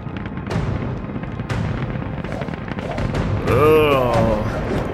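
A rocket engine ignites in the VR game Aripi VR with a sudden loud roaring whoosh that swells near the end, and excited voices shout over it.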